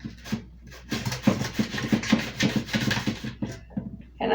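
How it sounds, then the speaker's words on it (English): A knife slices mushrooms thickly on a cutting board in quick, rhythmic, close-up taps and soft squelchy cuts, about a dozen strokes in a row. "I'm going to slice the mushrooms kind of thick as well"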